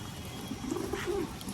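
A male Madras pigeon gives soft, low coos rising and falling in a short run, fairly close, over a faint background hiss.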